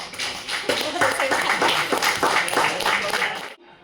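Members at the 18th annual general assembly of a multipurpose cooperative in Dhading clap in approval, a crowded, rhythmic patter of many hands sustained for several seconds before cutting off abruptly.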